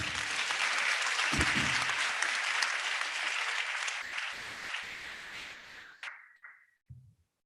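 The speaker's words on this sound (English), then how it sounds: "the Vice Chancellor of the University of Lagos deserves another round of applause." A convocation audience at the University of Lagos applauds loudly and steadily in a large hall for about six seconds, then the clapping thins out and fades away into silence.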